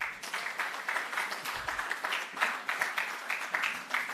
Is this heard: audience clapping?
yes